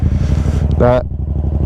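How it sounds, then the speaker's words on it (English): A Yamaha MT-07 fitted with a Black Widow exhaust idles with a deep, lumpy burble and gives a quick throttle blip partway through, while a voice briefly speaks over it. "Black Widow exhaust sounds rowdy."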